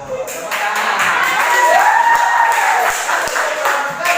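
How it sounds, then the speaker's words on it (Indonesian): A class of students claps hands together in a steady, continuous patter of applause, fairly loud and close, with some voices and a tonal sweep in the background. "Tepuk tangan."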